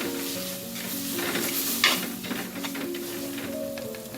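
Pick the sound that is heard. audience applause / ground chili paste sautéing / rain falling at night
ground chili paste sautéing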